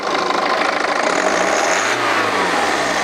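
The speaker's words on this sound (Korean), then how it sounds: "악셀 한번 밟아봐" A BMW G30 520d diesel engine revs up close as the accelerator is pressed, its steady loud drone rising and then easing back, with no talking.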